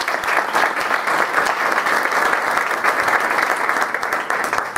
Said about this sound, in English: Our esteemed panelists, let's give them a round of applause.